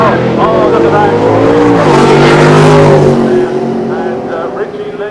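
Drag racing car at Santa Pod during the 1990 Mayday Springnationals, Pro Modified class, engine roaring loud and steady at the top end with throttle feathering, a commentator talking over it.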